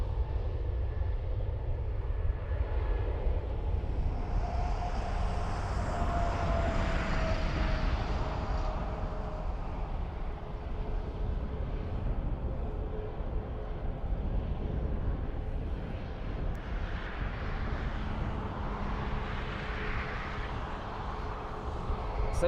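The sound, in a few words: Ryanair airliner taking off for Tenerife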